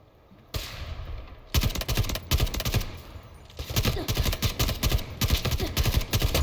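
Rapid gunfire in the military shooter Delta Force, a brief quiet start, then loud sustained automatic bursts with short pauses between volleys, close and dominant throughout.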